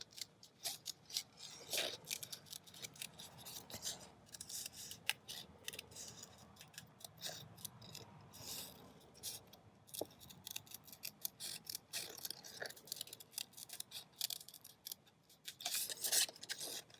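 Scissors snip loosely through paper around a cut-out wall builder figure for a mixed media craft, a steady run of quiet, close, crisp cuts with short pauses in between.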